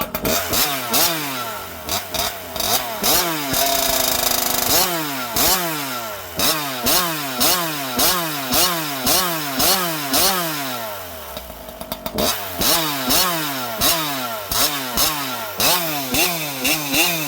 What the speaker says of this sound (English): This saw likes to start on fast idle with a pipe.